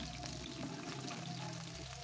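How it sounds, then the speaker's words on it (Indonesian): A quiet, steady sizzle of shallots frying in a pan, a continuous soft crackle with no voices. "Tumis 5 siung bawang merah."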